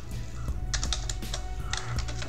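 Steady, fast typing on a computer keyboard, with clustered key clicks and brief pauses, close and fairly clear over a low hum, with no talk.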